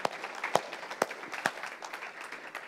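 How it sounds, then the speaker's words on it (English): A church congregation applauds with sparse, scattered claps from a smallish group. A few sharp hand claps stand out over a soft, uneven patter that thins toward the end. "if y'all want to give them a round of applause"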